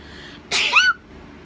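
A single sharp human sneeze, close and loud, about half a second long with a breathy onset, alone in a quiet room.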